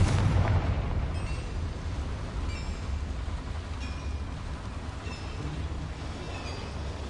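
Confringo fire spell in Hogwarts Legacy, a loud, rumbling blast that bursts at the start and then rolls on as a sustained roar, with faint metallic ringing from a mine setting.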